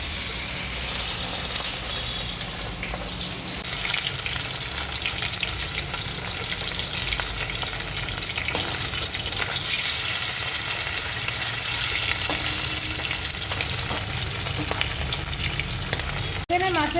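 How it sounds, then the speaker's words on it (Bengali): Fish pieces rubbed with salt, turmeric and chilli powder, including a fish head, fry in hot oil in a pan over a gas flame, giving a loud, steady sizzle and crackle that runs unbroken throughout with no talk. "এখন মাছগুলো ভেজে নেবে।"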